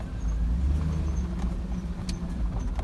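A 2009 Cadillac Escalade idles just after its spark plugs were replaced, giving a steady, close, low rumble that stays even throughout.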